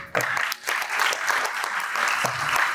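An audience at a nursing exam guidance seminar in Rajkot claps, a short, brisk burst of many hands that starts abruptly and keeps a steady, fairly loud texture, with a voice briefly cutting in.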